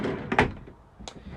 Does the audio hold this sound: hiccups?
no